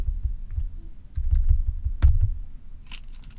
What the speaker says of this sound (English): And type in that number.